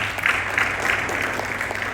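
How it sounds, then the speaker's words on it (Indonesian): Applause from a congregation at an evening church service, a steady wash of clapping that stays fairly even across the two seconds without any voices over it. "Haleluya, tepuk tangan kita berdua"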